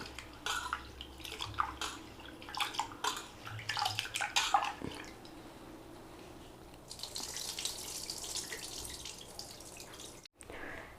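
Lentils being rinsed in water in a small kitchen vessel, with swishing, splashing and dripping sounds that come and go close by, then a steadier stretch of running water before a brief cut.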